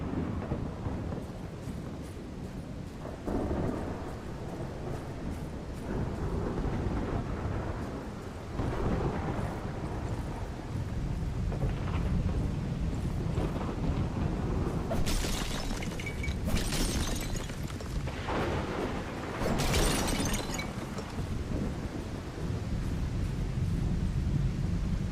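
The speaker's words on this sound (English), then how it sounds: "Feels like that storm is getting closer." A game thunderstorm rumbles low and steady for a long stretch, with several sharp cracking thunder bursts partway through and no speech.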